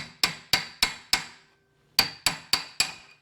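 Hammer blows on a center punch drive out a rear strut rod shaft on a 1978 Corvette: four sharp metallic taps, a short pause, then four more, close and loud, no voices.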